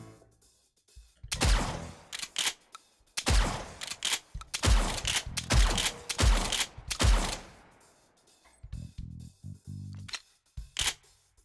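Suppressed shotgun fired in the VR game Hot Dogs, Horseshoes & Hand Grenades: a cluster of sharp, loud shots in quick succession, a pause, then mechanical clacks of the action and a couple more shots.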